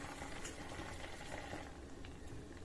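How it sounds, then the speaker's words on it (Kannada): Water with almonds boiling in a pot on a stove, a steady close bubbling hiss that runs unbroken and alone. "ಈಗ ನೀರು ಕುದೀತಾ ಇದೆಯಲ್ಲ ಈಗ ಬಾದಾಮಿನ ಹಾಕೊಂಡಿರ್ತೀನಿ"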